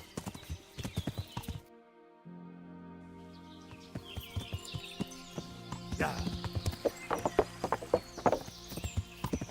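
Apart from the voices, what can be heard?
horse hooves on wood in Kingdom Come: Deliverance video game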